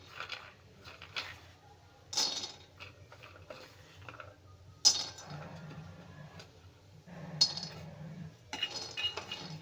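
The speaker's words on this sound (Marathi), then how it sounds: "आता घालूया शेंगदाणे" Peanuts are added to a pan for a vegetable dish, giving several sharp rattling, clinking bursts that stand out against a quiet background with light taps in between. Nobody talks.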